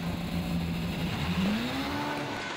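Rallycross supercars racing at Maasmechelen in the 2015 British rallycross opening round, a steady engine roar with one car's pitch rising as it accelerates, loud and continuous over distant crowd and track noise.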